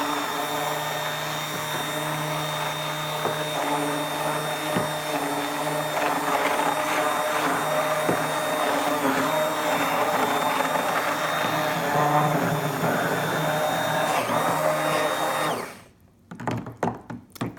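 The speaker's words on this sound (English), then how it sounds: "So let me put on the stick blender." A stick blender whirs loudly and steadily with a droning motor buzz while mixing soap, then cuts off near the end, leaving a few small clatters.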